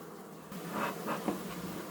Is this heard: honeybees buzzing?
yes